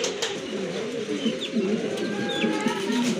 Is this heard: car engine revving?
no